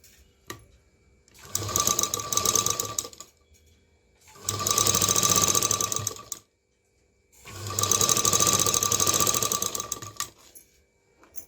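Sewing machine stitching a pocket onto a handkerchief, running in three loud, steady bursts of a few seconds each with short pauses between, close and with no voices.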